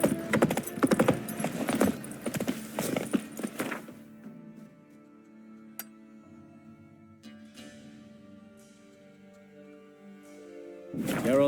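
Horse hooves gallop in a rapid, loud clip-clop through the first few seconds in The Witcher 3, then give way to quieter game ambience and music, with a brief return of movement at the end.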